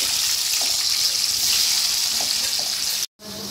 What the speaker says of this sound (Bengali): আলুগুলো আমি ভেজে নেব।